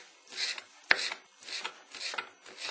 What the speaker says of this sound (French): il suffit de faire quelques allumettes de ce pâté vietnamien. Voilà, donc avec le couteau, vous y arrivez assez facilement.